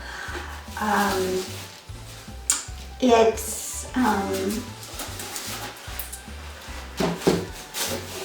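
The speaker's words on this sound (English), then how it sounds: "I'm going to sand and clean it up." Hand sanding scrubs across a decoupaged suitcase in short repeated rubbing strokes, fairly close, while a person talks over and between the scratchy passes.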